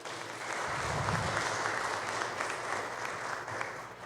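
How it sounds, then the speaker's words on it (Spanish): An audience at a book presentation on Oaxacan indigenous normative systems applauds loudly, a dense even clapping heard from a distance in a hall, sustained for about four seconds. "Un fuerte aplauso"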